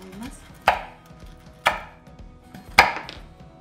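Homemade chocolate crunch being cut into bite-size pieces with a knife on a board: three sharp, crisp chops spaced about a second apart, close and clear, with no talking.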